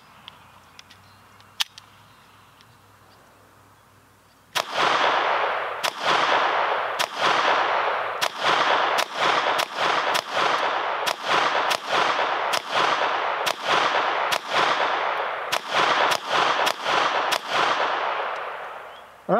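Taurus TX22 semi-auto .22 pistol firing 16 rounds of CCI Mini-Mag ammunition, loud sharp reports in a steady rapid string, each crack ringing out briefly, after a few seconds of quiet handling noise.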